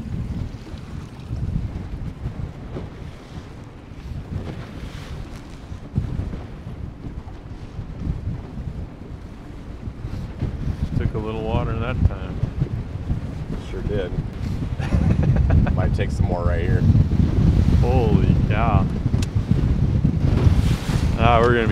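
A fishing boat on Lake Sakakawea runs with both its kicker and big outboard motor idling, a low steady rumble under wind buffeting the microphone, while someone talks and the engine drone grows louder later on.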